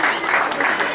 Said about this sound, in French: S'il vous plaît, ça s'applaudit.